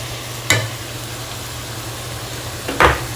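Mutton chops dropped into a pan of softened onions for an Eid bhuna gosht give two short sizzling bursts a couple of seconds apart over a steady low kitchen hum.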